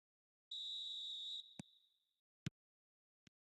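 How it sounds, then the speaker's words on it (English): A referee's whistle in a football video game blows one steady, shrill note for about a second, fading out, followed by a few sharp isolated clicks. "Whistle goes, and we start the second half."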